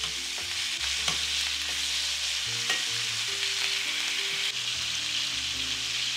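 Lamb chops fry with garam masala in a hot pan, giving a steady close sizzle and crackle with no break. Several scraping stirs come through clearly above the frying.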